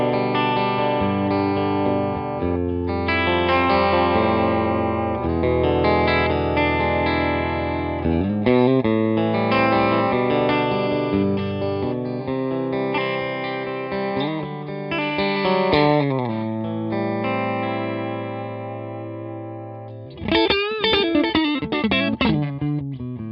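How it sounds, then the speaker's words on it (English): Electric guitar chords ring out with a gritty, slightly distorted amp tone, played straight into the amp with no pedal, strummed and held, with no other instruments or voices. "So the amp all by itself sounds like this."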